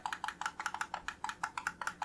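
Bumper buttons on a Turtle Beach Victrix game controller being pressed, giving a quick series of about twenty light but firm plastic clicks in an uneven rhythm, close and fairly quiet with no speech.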